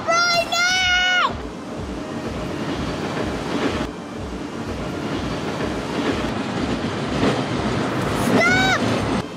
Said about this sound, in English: Oh my god, there's a train!